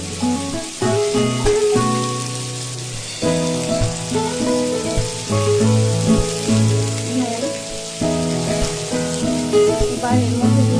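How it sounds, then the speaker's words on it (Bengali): Pumpkin pieces with turmeric fry in a pan with a steady close sizzle and crackle. The sizzle runs under background music throughout and a voice speaks over it. "এবার এর মধ্যে আমি কুমড়োগুলোকে দিয়ে দিচ্ছি একটু হলুদ গুঁড়ো,"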